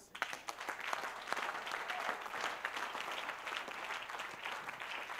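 A church congregation at a covenant service claps in a dense, steady round that keeps going throughout, with no talk over it.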